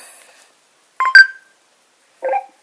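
Telephone keypad tones sound in a few short bursts, with a couple of close beeps followed after a pause by one more, clear against near silence.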